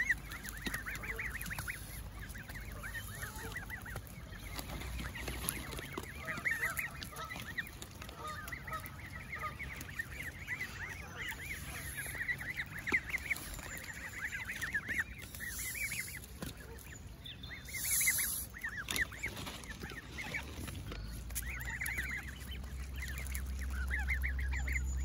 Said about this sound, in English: Hey, little Goose